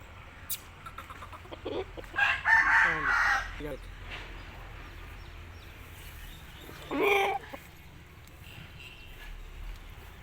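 An Aseel rooster crows loudly nearby, a long strained call, then a shorter crow a few seconds later, with a person talking quietly in between.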